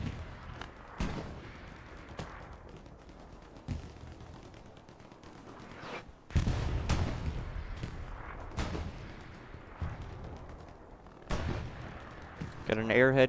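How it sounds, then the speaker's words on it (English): Artillery and rocket fire in Hell Let Loose, a World War II shooter match: repeated heavy booms and thuds at irregular intervals over a constant battlefield rumble, with a louder burst midway and voices talking beneath the din. "Rocket sailing in both sides."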